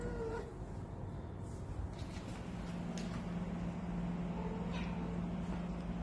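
An outdoor cat meows a few times, the calls fairly faint and drawn out against steady background noise from nearby traffic.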